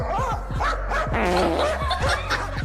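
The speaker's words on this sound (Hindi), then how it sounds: "इस वीडियो में ये कुत्ता बाहर खड़े बंदर पे भौंक रहा था" A dog barks at a monkey standing outside, a close, loud run of repeated barks and yelps with a harsh, almost laughing edge that keeps up for the whole stretch.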